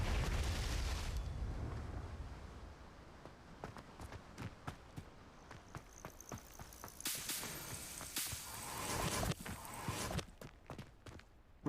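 Confringo fire-blast spells cast repeatedly in Hogwarts Legacy, a series of sharp whip-like cracks and bursting impacts over rumbling game noise, loud and close, with brighter explosive bursts clustered in the latter half.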